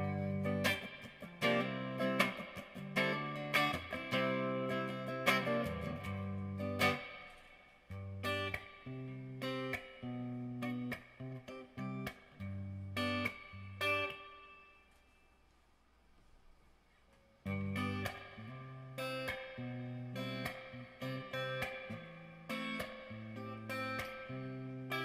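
Electric guitar played through a Peavey amp on its modern channel with reverb set at 12, giving loud, distorted riffs with sustained chords, a brief quiet gap near the middle, then the playing resumes.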